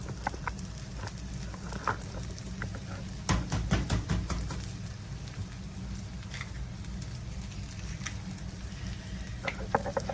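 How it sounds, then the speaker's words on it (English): Two eggs frying in a skillet, a soft steady sizzle with a brief louder crackle burst as they hit the pan, under faint background rain-like noise. "I'm going to put 2 eggs in this skillet."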